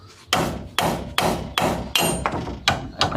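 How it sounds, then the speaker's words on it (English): Hammer striking a bolt to drive it out of a lowered truck's suspension, eight sharp metallic blows at a steady pace, close and loud, each ringing briefly. "Hammer the fucker out."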